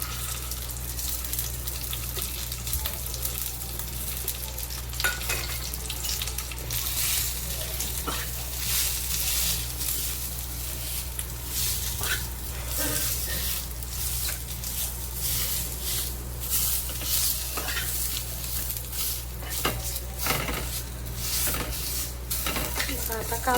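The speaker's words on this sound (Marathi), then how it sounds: "आता कांदा असा तेलामध्ये परतून घ्यायचा." Pre-roasted onion sautés in oil in a pan for a village-style Maharashtrian chicken curry, a constant dense sizzle with frequent scraping and clattering of a spatula over a low background hum.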